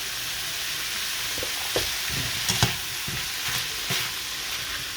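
Ground pork and tomato sauté in a pan, a continuous sizzle broken by several soft scrapes and stirring knocks from a utensil, close and steady.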